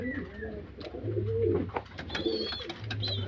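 Close, soft cooing from kept pigeons, several low repeated coos overlapping with a few brief chirps, fairly clear against a quiet background.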